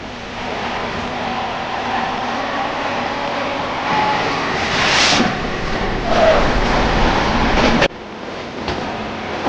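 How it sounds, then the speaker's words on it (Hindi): The Mumbai Rajdhani Express passes close by on Indian railway tracks, a loud, continuous rushing rumble with rattling wheels that swells and holds for several seconds. "ये है मुंबई राजधानी एक्सप्रेस"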